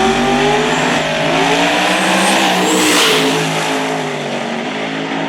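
A 1989 Fox body drag car with a 363 small block Ford and 98mm Pro Mod turbo on pump fuel roars loudly and continuously at a dragway, the engine note climbing through gear changes with no voices.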